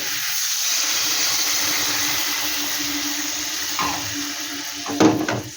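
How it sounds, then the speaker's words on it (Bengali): Water pours into a hot pan of prawn curry with a steady rushing hiss and sizzle, ending in a brief louder splash near the end. "এবার জল দিয়ে দেবো দিয়ে দিচ্ছি জল"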